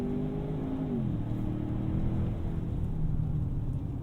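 A 2021 Ford Bronco Sport accelerates hard at full throttle, its engine note steady and loud, with a brief shift early on and then a continuous rising drone from up close.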